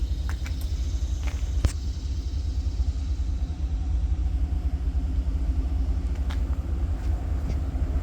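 An NYAR GP38-2 locomotive gives off a deep, steady engine rumble as it passes. The sound holds at a constant level throughout, with a few faint clicks and no talk.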